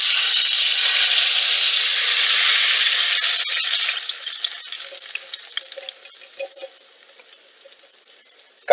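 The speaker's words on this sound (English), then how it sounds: "Do you hear that sizzle?" Hot olive oil poured over Macedonian pinjur of roasted peppers, eggplant and tomato crackles in a loud, steady sizzle that fades after a few seconds into scattered soft pops and spits.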